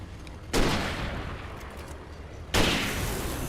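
Two loud gunshot blasts in the video game Alan Wake Remastered, about two seconds apart, each followed by a long ringing decay, sharp and close with no voices.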